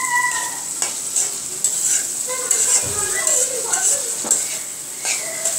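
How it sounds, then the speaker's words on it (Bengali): Onions fry with ginger-garlic paste in a pan, a steady bright sizzle running throughout with occasional stirring scrapes, while a voice talks over it. "তারপর দিচ্ছি হচ্ছে পেঁয়াজ"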